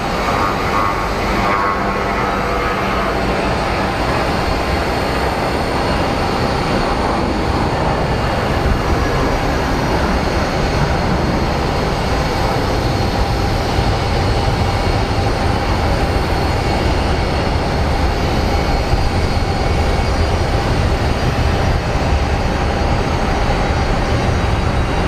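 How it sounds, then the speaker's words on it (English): An Airbus A321neo airliner at Phoenix Sky Harbor Airport gives a steady, loud jet engine roar that holds without a break for the whole stretch, with no voices over it. "A321 Neo"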